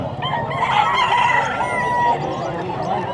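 Several roosters crow over one another in a busy, noisy chorus, loud and nearby, with faint clucking mixed in.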